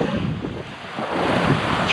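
Wind and surf while kitesurfing: rough wind buffeting the microphone over rolling waves and splashing water, loud and continuous with surging swells, no talk.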